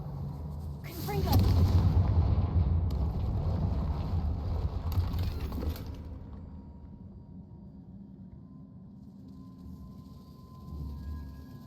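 Confringo fire spell blasting in Hogwarts Legacy, a deep booming explosion that swells and rumbles for several seconds with crackling debris, then fades into a low ambient drone.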